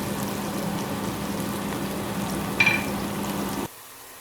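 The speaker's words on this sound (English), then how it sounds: "Now the onions are frying nicely." Onions frying in a pan for a lamb curry give a steady, even sizzle close up, with a brief clatter near the end before the sound cuts off abruptly.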